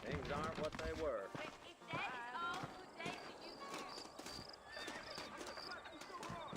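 In Red Dead Redemption, horses whinny and hooves clatter in a busy mix, with a voice speaking over the sounds throughout.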